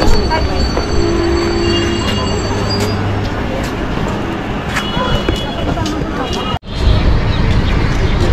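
A train rolls loudly into Sheoraphuli Junction station with steady rumbling wheels and long metallic squeals from the brakes, ending in an abrupt thump as it halts, with voices from the platform faintly beneath.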